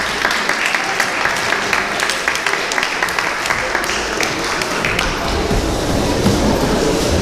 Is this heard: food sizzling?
no